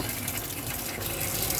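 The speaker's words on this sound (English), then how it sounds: "when you have water running continuously out of every tap on board the van" Water running continuously from the taps of a 2015 Sprite Exclusive caravan, fed by its onboard pump, a steady hissing gush close by with no pauses.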